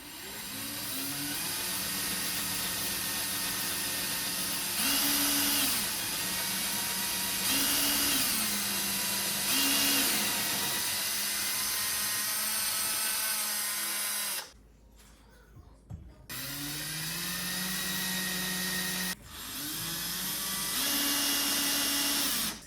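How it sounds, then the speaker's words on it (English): A power drill bores a hole into a wall during home setup, its steady whine rising in pitch and swelling in loud bursts, then cutting off briefly before a second run. "Now we just drill and that's it."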